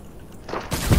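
Fortnite arena match gunfire: a loud burst of shots rising in the last half second, preceded by quieter game ambience.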